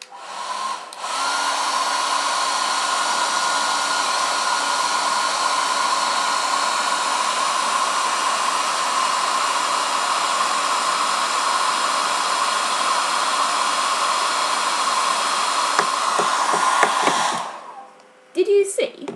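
A hair dryer blows continuously at a steady, loud whoosh for most of the clip, then shuts off with a few clicks and rustles at the end.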